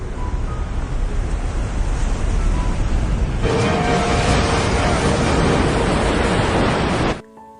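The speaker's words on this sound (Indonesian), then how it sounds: "Saat bendungan retak, air mengamuk dalam gelombang dahsyat. Tsunami menyapu segalanya" Massive tsunami waves from a burst dam flooding a city in a film scene, a loud, continuous churning roar of rushing water that swells midway and then cuts off abruptly.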